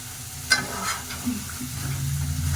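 Greens and chicken frying side by side in two pans on a gas stove, a soft steady sizzle with a sharp stir or clatter near the start and lighter stirring scrapes after.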